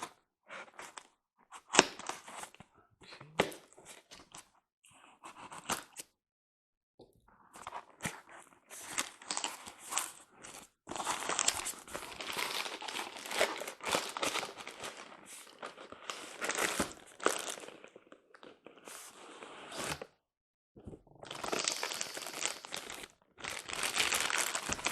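Crinkling, tearing and rustling of cardboard and packing material as a taped shipping box holding a Lionel Strasburg dockside switcher train engine is opened, in close bursts broken by short pauses.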